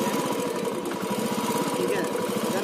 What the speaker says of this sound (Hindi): आप सुन सकते हैं, आप पहले ही बाइक स्टार्ट हो रही है